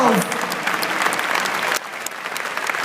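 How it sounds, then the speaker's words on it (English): An audience claps in a sustained burst of applause, dense and fairly close, with a brief spoken voice at the very start and the clapping continuing steadily after a slight drop in level. "give these people an enormous round of applause"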